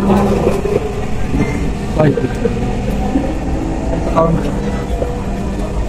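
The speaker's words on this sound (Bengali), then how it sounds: "আমরা কিন্তু মেট্রোয়ে উঠছি, কারেন্টের ট্রেন কিন্তু" Inside an electric metro train in Dhaka, a low continuous rumble and hum fill the carriage, with a few clunks and knocks along the way while people talk over it.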